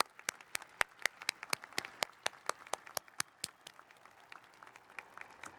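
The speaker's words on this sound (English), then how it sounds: "Please join me in applauding their contributions to the college." Commencement audience at The College of New Jersey applauding in a large hall, a run of sharp, distinct claps from a modest crowd, loud at first and thinning out over several seconds.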